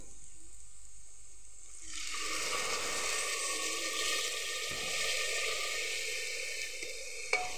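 After a quiet start, a loud hissing rush rises and holds steady as water is poured onto frying rice in a hot pressure cooker, with a clink near the end.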